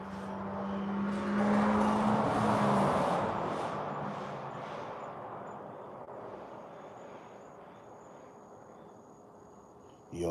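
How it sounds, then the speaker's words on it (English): A rattling car that sounds like it is falling apart passes by, its rough rumble swelling loud early on and then fading into the distance, with insect chirping running throughout. "that car sounds like it's falling apart"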